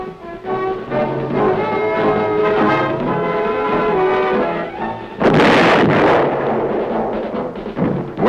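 An artillery gun fires at a proving ground range, a single heavy broadband boom erupting about five seconds in and rumbling out, preceded by sustained tonal droning like music.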